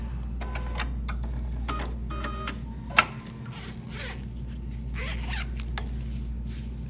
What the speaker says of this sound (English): and we're going to zip that back.